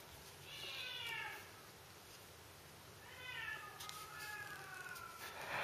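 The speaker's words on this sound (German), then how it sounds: "Ja, und der Kater dreht durch." Male cat yowling indoors, two or three drawn-out, wavering meows spaced a couple of seconds apart, moderately close over a quiet room hum, no talking.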